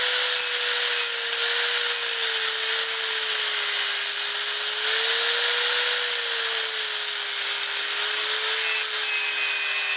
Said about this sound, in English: I got my grinder here.